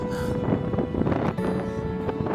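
Gusty wind buffets the microphone in a rough, steady roar, loud and close for a couple of seconds.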